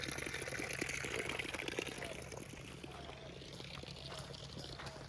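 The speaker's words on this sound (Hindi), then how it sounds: "देखिए पानी यहाँ पर चालू करके रख दिया जाता है, ये हमेशा 24 घंटा चलता है।" Water left running at all hours at a cattle shelter, pouring steadily with a soft gushing splash and a low continuous hum beneath. It stays even and moderately faint throughout.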